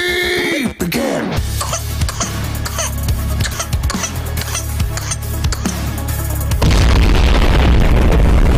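A loud booming blast with rumbling, crackling debris that continues for several seconds, ending in a roaring wash of noise.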